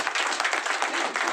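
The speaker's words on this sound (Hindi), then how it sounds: "दिल खोल के ताली बजाइए।" Audience applause at an RCM celebration event, a dense, steady wash of many hands clapping at close range with no voices over it.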